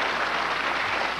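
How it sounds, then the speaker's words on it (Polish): Audience applause at a Polish televised event, a thick, even wash of clapping from a crowd, continuous and fairly loud through the whole moment. "Brawa dla związków, oczywiście."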